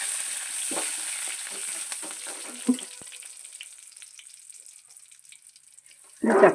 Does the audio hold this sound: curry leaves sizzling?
yes